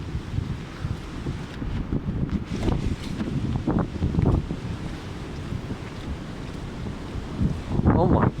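Very strong wind roaring and buffeting the microphone outdoors among swaying trees, a loud continuous rumbling gust that swells and eases, with a voice speaking briefly near the end.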